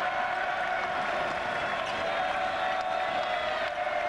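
A college basketball crowd in Gainesville arena roars steadily at a Vanderbilt at Florida game, a dense, continuous wash of cheering and noise filling the space without clear breaks.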